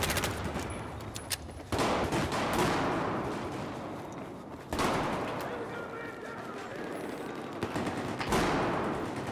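MTAR rifle fire rattles in Battlefield 4 during a team deathmatch on Operation Locker, with loud automatic bursts starting sharply at three points and each tailing off, mixed with other battle noise.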